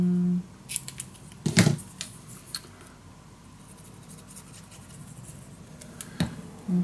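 Scissors snipping through patterned scrapbook paper for a mini album, a few brief close crisp cuts and rustles spaced out over a quiet tabletop background.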